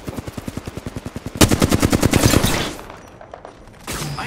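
Automatic gunfire in the Apex Legends video game: a fast, even string of close, loud shots, then a heavier overlapping burst that tails off into a rumbling decay, followed by a short burst of noise.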